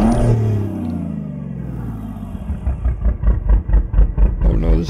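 A big-rig diesel truck in American Truck Simulator, fitted with an M11 engine, starts up and settles into a low idle before revving in rhythmic pulses, loud and close, with no voices.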